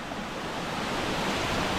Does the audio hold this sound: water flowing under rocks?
yes